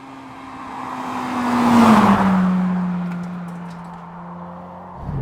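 A Honda Integra Type-R DC5 with an aftermarket cone filter and standard exhaust drives past close by, its engine note swelling to a loud peak and dropping in pitch as it moves away.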